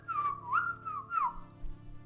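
A person whistles a short, sliding tune in imitation of a character casually whistling while walking and cleaning a knife, a few clear rising and falling notes, close and alone.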